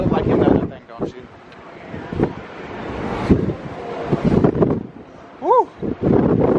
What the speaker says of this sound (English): Hang on, cause it is windy